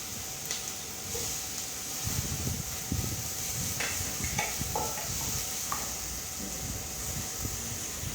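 Two medium chopped onions frying in oil with whole spices, heard as a steady close sizzle with occasional stirring scrapes and light clinks from a spoon against the pan, moderately quiet and continuous.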